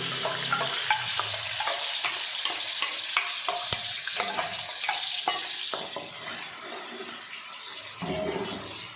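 Spice paste for a coconut-milk-free vegetarian rendang sizzles loudly in a very hot pan, a steady close frying hiss broken by frequent scraping stirs and clicks of a utensil against the pan.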